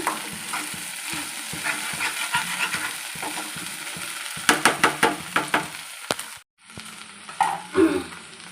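Okra frying and being stirred in a pan, with a soft background sizzle under repeated knocking scrapes of a utensil, louder toward the end, then a brief drop to near silence; no speech.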